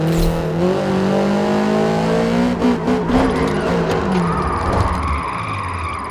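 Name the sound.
GR86 car drifting on touge road, Forza Horizon video game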